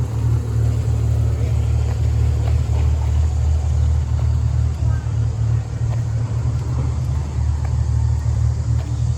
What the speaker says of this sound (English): The train goes along the creek.